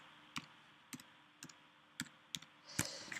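Five sharp, isolated mouse clicks spaced about half a second apart while placing text in Photoshop, quiet and close, with a slightly busier click cluster at the end.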